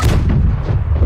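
Ship cannons fire a broadside in the pirate naval game Blackwake, a single loud, heavy boom with a rumbling tail, close and alone.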